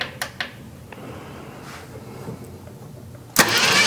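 A 1966 Ford Mustang project car, with brake cleaner applied, makes a first start attempt: a few faint clicks and quiet rumble, then a sudden loud burst of engine noise at the very end, close to the microphone.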